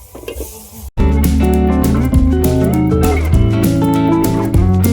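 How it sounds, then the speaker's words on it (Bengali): Tomatoes, ground spice paste, garlic and ginger hit hot oil for mutton biryani and burst into a loud, steady sizzle, starting abruptly after a moment of quieter cooking and carrying on strongly with stirring. "দিয়েছি টমেটাগুলো দিয়ে দিচ্ছি এই বাটা মশলাগুলো দিয়ে দিয়েছি এই রসুন আর আদা"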